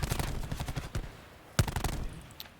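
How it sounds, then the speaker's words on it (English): Rapid bursts of automatic gunfire with sharp blasts in Call of Duty during a CWL Pro League 2019 esports match, loud and close, a heavy explosion-like hit midway, no talking. "That's all the explosions that you heard going off on that Fences Hill"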